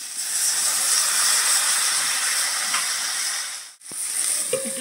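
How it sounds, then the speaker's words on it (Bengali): Water poured into potato and cauliflower frying in a pan, giving a loud, steady hiss of steam that cuts off abruptly before a few quieter clinks. "এবার আমি জল দিয়ে দেবো।"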